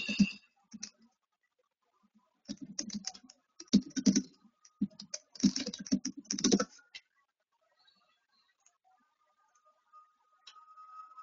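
Typing on a computer keyboard in bursts of rapid close key presses with pauses between, loud and clear against silence, with a few isolated clicks near the end.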